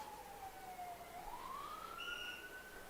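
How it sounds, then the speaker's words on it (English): A wailing siren rises and falls steadily at a netball match between Guyana and Barbados, heard at a distance over a constant background hum, with no voices. "as the sirens go"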